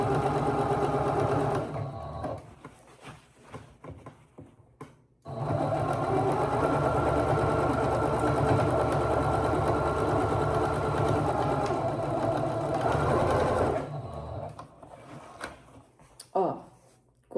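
Sewing machine running in long steady bursts as it stitches through old denim jeans, loud and close with a brief pause between runs, while a person speaks quietly during the gaps.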